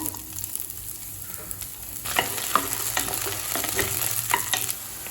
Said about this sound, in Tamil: கடாயில் தேவையான அளவு எண்ணெய் ஒரு வெங்காயத்தை சேர்த்துக்கலாம்